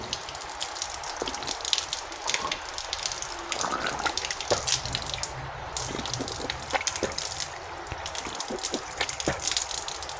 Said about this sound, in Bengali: তিনবার কুলি করবেন